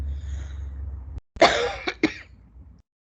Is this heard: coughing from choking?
yes